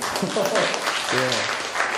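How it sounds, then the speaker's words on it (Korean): An audience at a forum talk applauds, steady dense clapping filling the room at a moderate distance, with a voice speaking over part of it. "박수 한번 주십시오"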